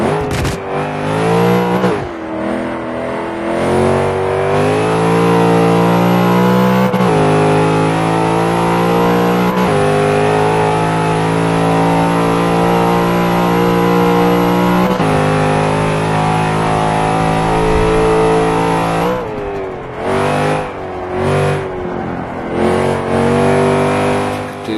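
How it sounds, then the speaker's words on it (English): A race car engine in the video game Forza 5 revs hard and climbs in pitch, cut by quick gear changes every few seconds, loud and continuous with a choppier burst of shifts near the end. "So I'm expecting the car to rev quite a lot when we come out of this."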